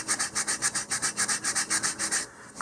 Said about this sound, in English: maybe just give them a little bit of sanding here to make sure we've got all the nubbins down